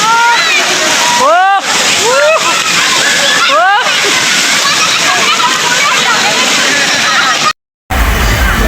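Water being splashed on a person outdoors, continuous loud sloshing and splattering throughout, with excited voices and calls mixed in before a brief cutout near the end.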